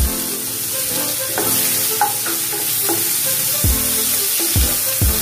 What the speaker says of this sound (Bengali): পেঁয়াজটা সামান্য একটু ভাজা ভাজা করে নেব।